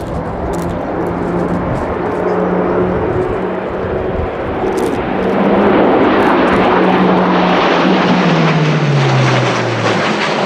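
An Airbus A400M Atlas turboprop transport makes a loud high-speed pass at the RIAT 2016 airshow, a continuous propeller roar that swells and then drops in pitch as it goes by.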